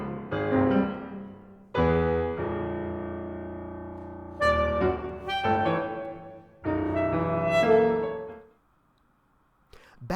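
Solo saxophone in an excerpt from a Babbitt piece, played in separate phrases of sharp-attacked notes with high and low leaps, fading to near silence before a last short entry.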